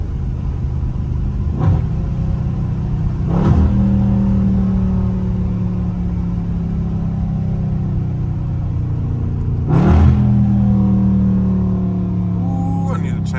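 A catless Dodge Scat Pack in track mode pulls hard, its loud raspy exhaust droning steadily while sharp gear-change bursts punctuate the rising engine note several times; a voice is faintly present under the roar.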